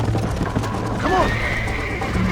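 A horse in the video game Red Dead Redemption lets out a loud, close whinny with a rising then falling pitch over steady clip-clopping hooves, with faint game ambience underneath.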